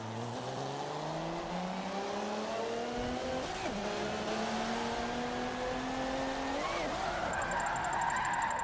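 Video game car drifting in tandem, engine note rising and falling through a long slide with tyre squeal, steady and loud throughout, faint voice at times.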